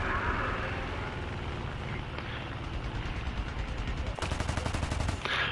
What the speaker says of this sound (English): There's an AA gun trying to kill me.